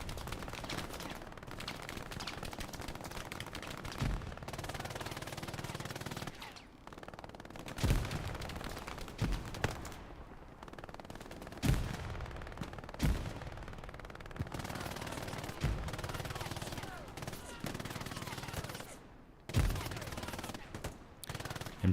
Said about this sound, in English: MG42s to the rear.